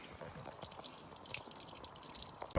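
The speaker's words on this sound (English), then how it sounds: "So it's just draining at the moment down onto my underneath of the car there." Coolant draining from a Fiat Stilo 2.4 engine during thermostat removal, dripping and trickling steadily onto the underside of the car, with a continuous light liquid patter close by and a louder splash near the end.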